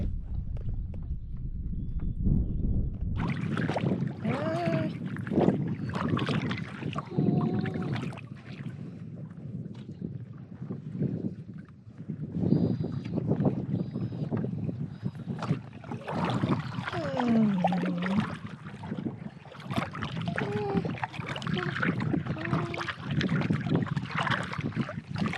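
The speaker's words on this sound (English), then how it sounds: "we got somebody paddling near us" Someone paddles a canoe on the water nearby at a camp, making repeated soft splashes and drips over the rustle of the surroundings, with occasional bird calls.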